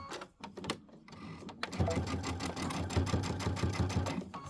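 A sewing machine stitches a quilt top, its needle pounding in a fast, even rhythm after a few hesitant starts, close but quiet, with no speech.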